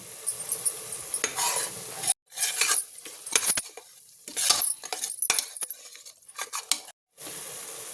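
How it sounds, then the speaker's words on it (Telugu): Masala with turmeric, salt and coriander powder frying in a pan, a close sizzle broken by repeated scraping strokes of a spoon, with brief silent gaps between bursts of stirring. "ఇదంతా వేసుకొని బాగా ఫ్రై చేసుకుందాం అండి."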